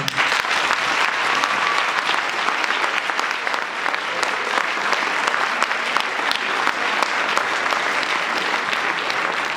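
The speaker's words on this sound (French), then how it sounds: "j'aimerais qu'on les applaudisse très fort" Loud, sustained applause from a large audience in a school hall honoring staff of an institute, dense continuous clapping that stays even for nearly ten seconds, close and full.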